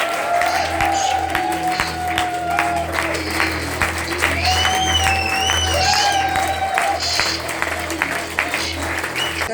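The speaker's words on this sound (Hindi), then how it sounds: "एक बार अपने लिए जोरदार तालियां यार, खड़े होकर" A large convention crowd gives standing applause, loud continuous clapping mixed with cheers and whoops, while amplified music tones ring above it.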